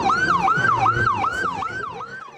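A fire department siren wails at a small-town 2023 Mardi Gras parade, rising and falling in a steady repeating cycle about every half second, loud and close with road noise beneath.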